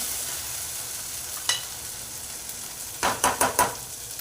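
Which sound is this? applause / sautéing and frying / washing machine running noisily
sautéing and frying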